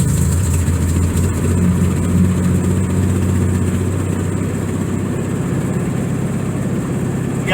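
Volkswagen Beetle engine just after a cold start, settling into a loud, steady idle with a low, throbbing drone that holds evenly and close throughout, no talk over it.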